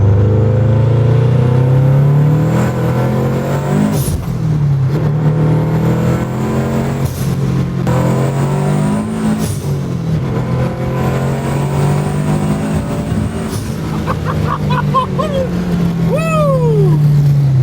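A Scion FR-S with a twin disc clutch accelerates, its engine droning loud and close while it climbs through the revs, with a brief drop at a shift and excited voices near the end.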